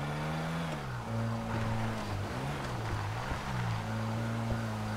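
A car in a video game drives steadily with a constant engine drone whose pitch rises and dips as it shifts and revs, loud and continuous with faint clicks on top.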